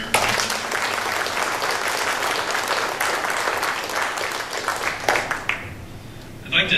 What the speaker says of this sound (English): one more round of applause for our show choir